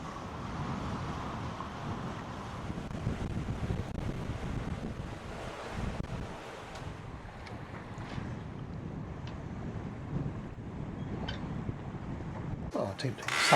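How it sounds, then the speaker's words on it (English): Strong gusty wind buffets the microphone aboard a sailboat near a harbour in a continuous roar, with the wash of water and waves underneath. "So we've got some gusts up the hills at the moment."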